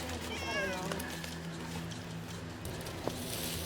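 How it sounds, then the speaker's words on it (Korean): A cat in a baby stroller meows once near the start, a short wavering call over an outdoor street background with faint rumbling and a brief knock later. "어머니 저기 유모차 안에 있는 게 고양이에요?"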